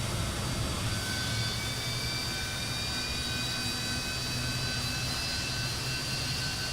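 A Fokker 28 jet engine spools up during start in Microsoft Flight Simulator, a steady broadband roar with thin rising whines layered on top, even and continuous throughout.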